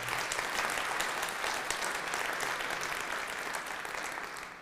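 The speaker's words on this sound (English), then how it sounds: "Give it a round of applause." Steady, dense applause from a large audience at a State of the City address, continuous and fairly loud throughout with no voices over it.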